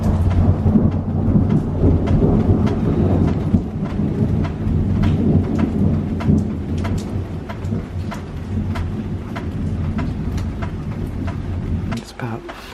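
Night thunderstorm by the sea in Menorca, with heavy rain pouring steadily and loud, close rumbles of thunder rolling throughout, plus sharp crackling bursts; no speech.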